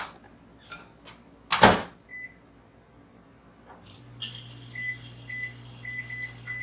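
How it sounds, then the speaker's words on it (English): A door thumps shut, then a low electric hum starts as a microwave runs, with a few short beeps sounding over the steady drone. "I'm going to go ahead and throw this in the microwave just for a minute"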